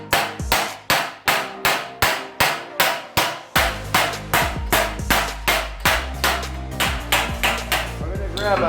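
Steady ball peen hammer blows on sheet metal over a dolly ring out one after another, about two per second, sharp and close, with a brief shift partway through and a rising metallic ring after it.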